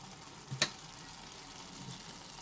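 Cabbage and peas stirred with ghee in a pan give a soft steady sizzle with one sharp clatter of a spoon against the pan, no talking.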